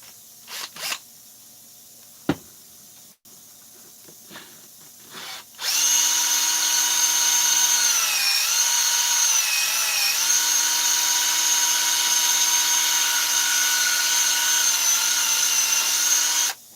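A Scotch-Brite pad spun on a power drill while porting a Husqvarna 350/346XP chainsaw cylinder head gives a loud, steady whine with a few brief dips. It runs for about eleven seconds after some quiet handling clicks.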